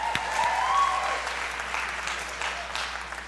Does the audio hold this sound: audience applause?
yes